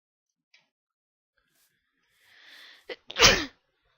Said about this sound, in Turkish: Kusura bakmayın arkadaşlar hapşırdım